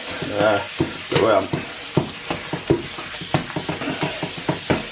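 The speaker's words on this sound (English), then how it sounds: "So we will keep doing this, keep browning it, and eventually I'll show you the sound." Steady loud sizzling of minced meat browning in a pan, with a spoon repeatedly scraping and stirring through it in irregular clicks, close up.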